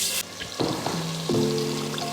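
A coarsely ground masala paste goes into hot oil for a home-style chicken saaru, setting off a loud, close sizzle with a few scraping and clinking touches, and no voice over it.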